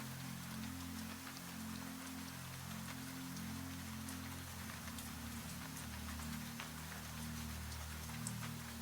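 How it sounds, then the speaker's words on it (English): Small raindrops tap against window glass, a soft, even patter with faint scattered ticks over a steady low hum, continuous and quiet throughout with no voices. "At the window, the rain sounds exactly as it did at the beginning. Small drops touch the glass."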